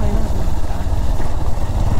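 A motorcycle ridden over a rough, unpaved road, its engine a steady close-up drone with a rumbling, bumpy low end that never lets up.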